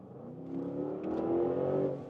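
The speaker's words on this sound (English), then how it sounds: "when I'm then suddenly on the gas, the vehicle takes a while." A 2025 Audi RSQ8 Performance in comfort mode is pressed on the gas from inside the cabin. Its engine note hums low and builds slowly into a rising, steady rev over a couple of seconds, with no voices.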